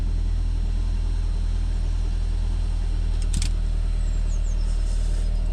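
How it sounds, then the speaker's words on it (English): A Saab 9-5 (1997–2005) engine idles steadily in a close, continuous low rumble, with a brief clatter partway through and no talking. "I've actually started my engine, guys, just to keep this battery charged while I'm working."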